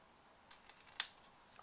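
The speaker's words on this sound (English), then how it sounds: "I'm actually just going to use my snips for this bit" Small snips cut through a card banner for a Malteser truffle box, making a few quiet close snipping clicks with one sharper cut in the middle.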